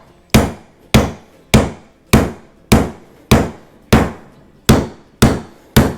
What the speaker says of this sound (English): Put your nail in with the head up against this, and you can drive it in.